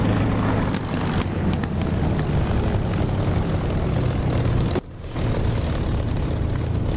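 An LA-7 propeller fighter's engine in the DCS flight simulator drones loud and steady, with a deep, throbbing low end and a brief dip in level near five seconds.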